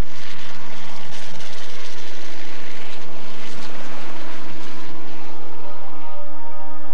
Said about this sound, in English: As the helicopter circled around for another pass